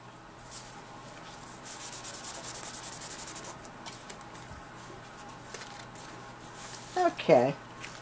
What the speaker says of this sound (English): And now I'll tape down the end and start to burnish.